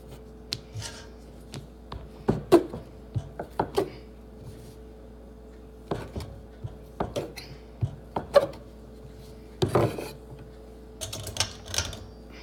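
Cheese being chopped on a board in a home kitchen, with irregular bursts of sharp knife strikes separated by short pauses, fairly close and moderately loud, with no talking.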